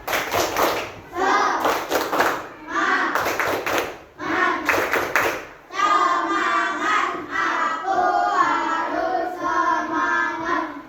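A group does the Indonesian "tepuk semangat" clap in a quick, patterned rhythm of bursts with short pauses, then people chant loudly together over more clapping.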